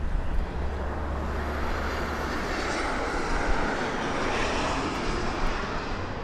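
An airplane arriving at Las Vegas Harry Reid International Airport, heard as a broad, steady jet roar with deep rumble, sustained and fairly loud for several seconds from a moderate distance, with no speech.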